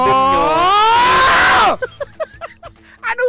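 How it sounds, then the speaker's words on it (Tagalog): A person lets out a long, loud, strained shout lasting well over a second, then breaks off into short, choppy vocal bursts and brief sounds close by. "Ba't ka hiyaw ng hiyaw dyan?"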